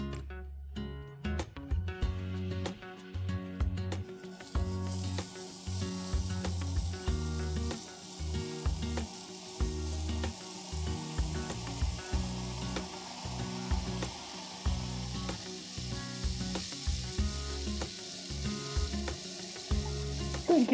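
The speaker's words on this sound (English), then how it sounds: "All right, let's add our bacon in here." Bacon sizzles steadily in a hot pan for the full stretch, a loud continuous crackle with occasional stirring knocks and scrapes; a brief burst of louder activity comes near the start as the strips go in.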